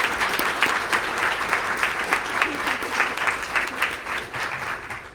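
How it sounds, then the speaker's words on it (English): A large audience applauds steadily, a dense, even wash of many hands clapping that holds for about five seconds before easing slightly at the end. "could we please show them another round of applause?"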